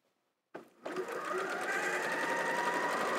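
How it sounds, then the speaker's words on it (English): A sewing machine stitching quilt fabric starts after a short silence, a brief stutter and then a steady, close, rapid mechanical whir that runs evenly to the end. "I'm just letting the machine do its work and just letting it all go through nice and comfortably."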